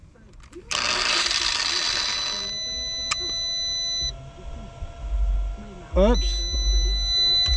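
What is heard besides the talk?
power inverter overload warning beeping and shutting off in a truck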